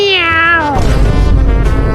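A cat gives one loud, close meow that falls in pitch, followed by rough background noise.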